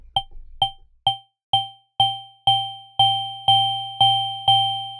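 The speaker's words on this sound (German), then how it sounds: "höre ich schon, wie dieser Glockensound kommt" Bright FM-synthesized bell tones strike in a steady rhythm, about ten hits, each ringing with a longer, fuller decay as the sequence goes on.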